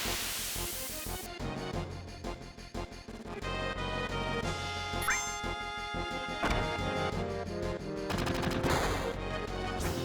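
Rapid machine gun bursts from the Final Fantasy VII video game, loud and dense, with sharp repeated shots layered over game music and effects, no talking.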